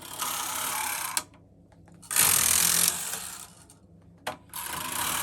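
A Knitmaster ES-302 automatic knitting machine carriage makes two loud mechanical runs across the needle bed with a ribber attached, each a sustained rattling whir separated by a short quiet pause, with a brief clack in between.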